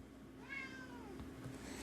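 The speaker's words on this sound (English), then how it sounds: "My cat just came in." A cat gives one clear, drawn-out meow indoors, fairly faint and a little distant, with no one talking over it.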